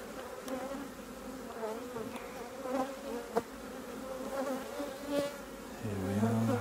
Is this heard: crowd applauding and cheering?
no